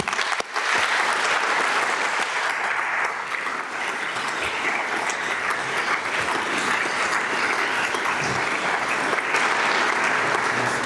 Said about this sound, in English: I guess this is worth a round of applause for Sven and his team.